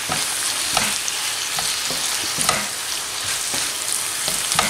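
Tomato confit with oregano and sardines sizzles and crackles steadily in a hot pan, a dense continuous fry with occasional louder pops and stirring, close up and without speech.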